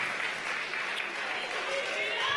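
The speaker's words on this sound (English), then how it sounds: "Yeah, you guys can clap." An audience at a college athletics awards ceremony keeps up dense, steady applause. The clapping is fairly close and continuous, filling the room from start to finish without a break.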